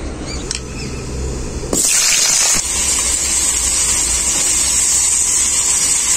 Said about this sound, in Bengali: এখন আমি এর মধ্যে দিয়ে দেবো কেটে রাখা আলু আর বেগুন।